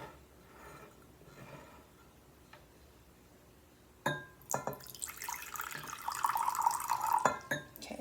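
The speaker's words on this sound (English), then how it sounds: "I'm going to do the first pour so that you can see better." Liquid pours into a measuring cup during a small-group lesson on liquid and solid measuring cups, a splashing, filling stream that starts abruptly midway and runs steadily and close, with a brief pause before resuming.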